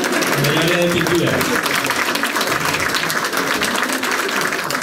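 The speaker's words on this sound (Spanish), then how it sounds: "Fabián Octavio Vargas Andrade, un fuerte aplauso en el área de pintura." An audience claps loudly and continuously at an art award ceremony as a painting winner is named, with a voice speaking briefly at the start.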